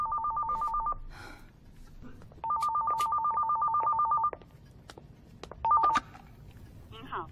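Bursts of electronic telephone ringing in an animated feature film, three trilling rings of differing length separated by pauses, loud and clear over a quiet background.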